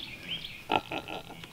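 A pregnant sow close to farrowing gives a few short, low grunts close by, clustered in the second half of a quiet pen scene.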